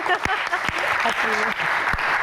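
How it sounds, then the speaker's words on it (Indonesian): Audience applause at a live Q&A show with rock singers, a steady wash of clapping filling the clip while a host's voice speaks over it. "tepuk tangan sekali lagi"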